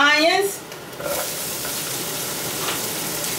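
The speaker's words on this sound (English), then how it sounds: "we're gonna add in our onions" Sliced red onions hit a hot pan for a pork chop sauce with a brief voice first, then a steady, close sizzle and hiss that carries on to the end.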